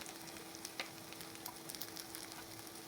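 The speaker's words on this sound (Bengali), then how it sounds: "তার মধ্যে একটু পেঁয়াজ কুচি আর একটা কাঁচা মরিচ কুচি দিয়ে লাল লাল হওয়া পর্যন্ত একটু ভেজে নেব।" Chopped onion and green chili fry in oil in a pan for prawn bhuna, a faint, even sizzle with small crackles throughout and no voices.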